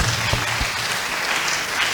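A church congregation applauding at a workers' meeting, a dense, loud, steady wash of many hands clapping together throughout the brief moment.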